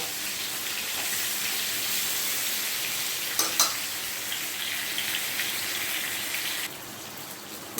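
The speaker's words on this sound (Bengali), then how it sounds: "এবারে আমি পটলগুলোকে লালচে করে ভেজে নেব।" Pointed gourd (potol) fries in oil with an even, close sizzling hiss, a brief burst of crackle midway, then the sizzle drops slightly quieter near the end.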